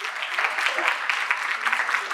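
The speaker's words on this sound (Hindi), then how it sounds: "तो जोरदार तालियां इनके लिए।" Studio audience clapping on a Hindi election-awareness quiz show, a steady dense patter of applause at even loudness for a couple of seconds, with no voices over it.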